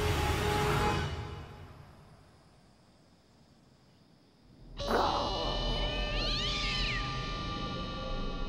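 A cat in a Hindi TV drama scene gives a drawn-out meow that rises and wavers, loud and close over a steady background hiss, with no talk during it.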